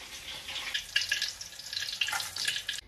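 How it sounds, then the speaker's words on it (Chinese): Spices deep-frying in oil over low heat, including Sichuan peppercorns, cinnamon bark, bay leaves and fennel seeds, give a soft, continuous bubbling sizzle with light crackles that rises and falls at a modest level, with no voices. "花椒、桂皮、炒过花椒、香叶、小茴香， 继续用小火炸。"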